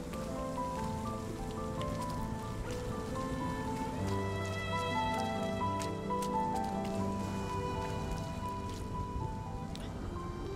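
Rain patters softly in the video game Rime, a faint steady wash of droplets beneath sustained, layered musical tones that shift partway through, with no voices.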